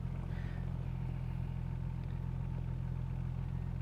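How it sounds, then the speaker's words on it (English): A 1969 Triumph TR6 engine runs at a smooth, steady idle, a low continuous rumble heard close and unbroken without any voices. "Car is running great."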